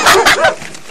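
A pack of dogs bursts into close, loud barking and yipping, three or four quick barks in about half a second before fading out.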